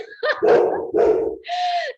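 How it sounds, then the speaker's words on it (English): A pet dog barks close by in a few quick, loud barks, ending in a higher yip or whine, with no one talking over it. "that is my dog"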